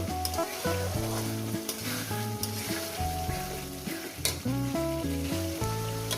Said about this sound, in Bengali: দেখুন আরও এক মিনিট কষাবো